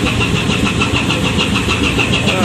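A loud, steady ship thruster engine drone on the vessel MV Fortune Delight during undocking, with a constant rumble and a high whine running throughout, no talking.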